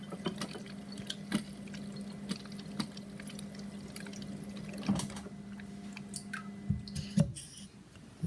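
Water at 9.5 pH pours into a container in a steady, close run of liquid with occasional drips and sloshes, no voices over it.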